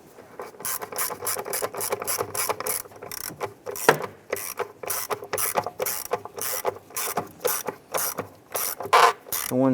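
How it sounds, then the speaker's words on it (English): A ratchet clicks rapidly in repeated bursts while snugging down throttle body bolts on a 2002-2008 Dodge RAM, close and loud, with brief pauses between strokes and no talk. "Let's go ahead and snug these bolts down."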